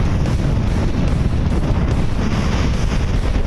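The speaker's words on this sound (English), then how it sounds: "Winds are 15 to 18." Strong 15 to 18 knot wind buffets a sailboat on Lake Michigan, making a loud, continuous roar with microphone gusting and rushing water beneath it, and no voices.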